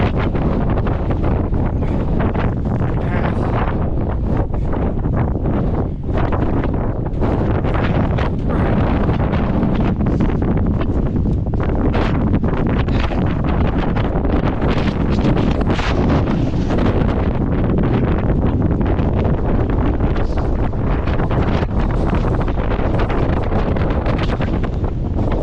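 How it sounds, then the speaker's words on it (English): Strong wind buffeting an action camera microphone on a snowy hillside, a continuous loud roaring rumble with gusty surges throughout, no voices. "Pretty windy, and I'm gonna try and get out of the wind"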